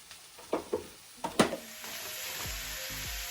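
Onions sauté in salted Challenge butter in a pan. A few close utensil knocks and scrapes give way to a steady, close sizzle.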